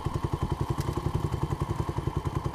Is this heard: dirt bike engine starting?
yes